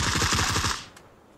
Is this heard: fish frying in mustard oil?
no